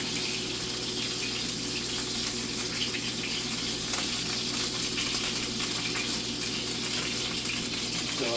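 Fries frying in a pan of oil, a steady, even sizzle and bubbling hiss that holds at a low level throughout without a break.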